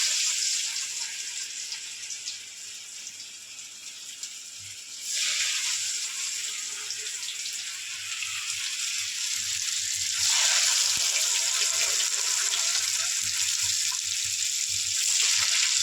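Corn vadas (makka garelu) frying in hot oil give off a steady, close broadband sizzle that surges louder around five seconds and again near ten seconds, with no talking.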